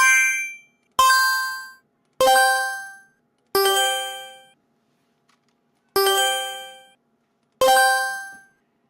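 An AI-generated chime effect: six separate bright metallic dings, each struck cleanly and left to ring out and fade before the next, spaced about a second or more apart against silence.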